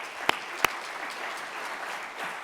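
Audience applause at a high-level international meeting, a steady spread of clapping with two sharp close claps near the start, moderate and unaccompanied.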